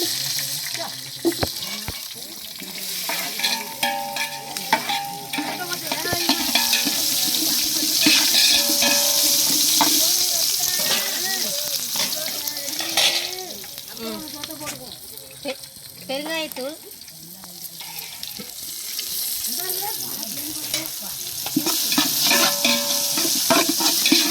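Dried red chilies, curry leaves and onion fry in a pan with a constant sizzle and repeated scraping stirs, while background voices and some running water are heard throughout.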